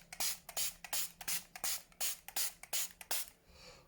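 A spray bottle is pumped about a dozen times in quick, even bursts, each a close, sharp hiss, ending in a softer trailing spray.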